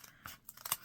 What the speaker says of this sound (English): I try to do as much as I can with the scissors